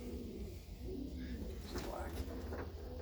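Racing pigeons, a loft of young birds, coo softly in the background, low murmuring calls under a steady hum and occasional voice, fairly faint and continuous.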